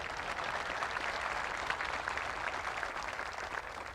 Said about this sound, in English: give me a round of applause for the chaplain